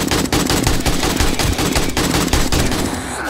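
Loud, close automatic gunfire in the survival game 7 Days to Die, a sustained rapid burst of shots that rattles on without pause for several seconds.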